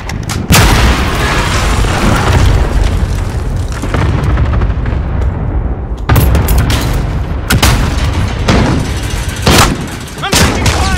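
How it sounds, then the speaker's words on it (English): Cluster strike explosions pound the map in a Call of Duty Modern Warfare team deathmatch, heavy booming blasts in quick clusters with rumbling tails and brief gaps, loud and close amid gunfire. "Allied cluster strike inbound"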